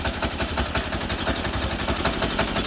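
An old Briggs diesel engine on a Sears Suburban 6HP tractor runs loud and close, its exhaust chugging in a fast, steady pulse with no voices over it.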